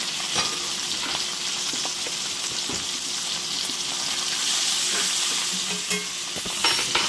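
Butter sizzling steadily in a hot pan alongside T-bone steak, a continuous bright frying hiss at close range with small pops and pan clinks, no talking.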